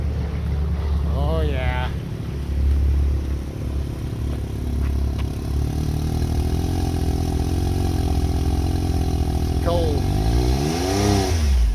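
A 2021 Can-Am Maverick X3 X RS Turbo RR side-by-side engine starts and idles with a deep, close, steady rumble, then blips its throttle in two rising revs near the start and the end, while a voice speaks briefly.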